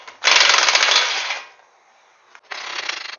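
Impact tool working the center axle nut on a 2013-2016 Dodge Dart during front strut replacement: a loud, rapid hammering burst of about a second, a pause, then a second shorter burst, close and alone.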